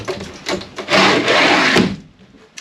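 A wooden door or window is pulled shut with a few scraping knocks and a longer rubbing slide before a final thud, loud and close, with no talking.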